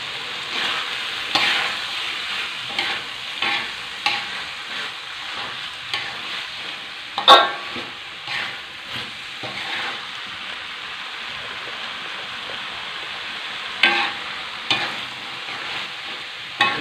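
Chicken and potato filling for chicken martabak stir-fried in a pan after spring onions go in, a steady close sizzle broken by repeated scraping stirs and one sharp clack, with no talk.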